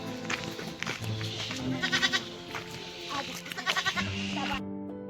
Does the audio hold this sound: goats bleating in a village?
yes